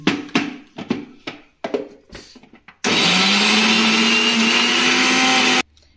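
A mixie grinder grinds soaked moong and chana dal: a few irregular clatters and knocks give way to a loud, steady motor whir for about three seconds that then cuts off abruptly.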